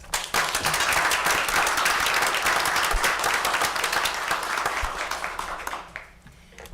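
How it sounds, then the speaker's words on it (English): Strong applause at a Peachtree City city council meeting, a full burst of many people clapping that stays loud for several seconds, then thins out and fades near the end. "One last round of applause."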